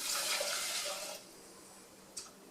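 Water poured into a container for boxed rice, a close hissing splash of a steady stream for about a second, then stopping, followed by a faint trickle and a brief small splash.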